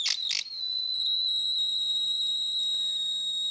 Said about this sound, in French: Alors si ça siffle, c'est que le serrage au niveau du chalumeau, il déconne peut-être un petit peu.